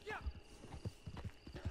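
Galloping horses in the Red Dead video game pound out a fast, rhythmic run of hoofbeats with a brief whinny at the start, fairly quiet and close, with a voice talking over it.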